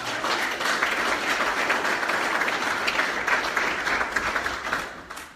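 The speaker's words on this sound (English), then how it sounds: "let's give a round of applause for" An audience at a Green Party event in Portland, Connecticut applauds Howie Hawkins, a sustained, even roar of many hands clapping that holds steady before tapering off at the end.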